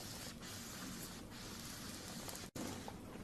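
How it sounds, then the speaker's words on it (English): Static charge crackling into a capacitor, built up the way a Van de Graaff machine works: a steady, dense hiss-like crackle fills the whole stretch at low level, with one abrupt dropout near the end. "Do you hear the charges going in?"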